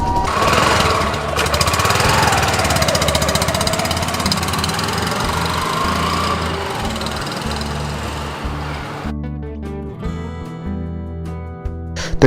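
Yamaha Gladiator motorcycle engine idling on choke with throttle blips to hold revs, a loud, steady, rapid mechanical chug that drops suddenly near the end before a brief rev.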